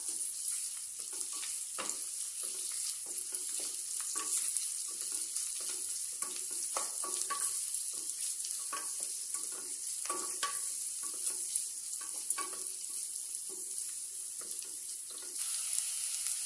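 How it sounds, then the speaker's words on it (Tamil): Onions and curry leaves sauté in a pan for mutton pepper curry, a steady close sizzle running throughout with frequent scraping and stirring clicks of a utensil. "வெங்காயத்தை சேர்த்துக்கலாம் கொஞ்சமாக கருவேப்பிலை சேர்த்துட்டு வெங்காயத்தை வந்து நல்லா வதக்கிக்கலாம்"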